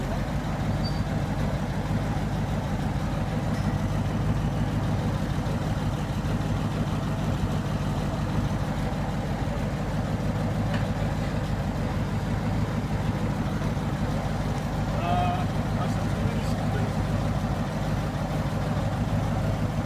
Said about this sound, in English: So quiet with the exhaust silences on.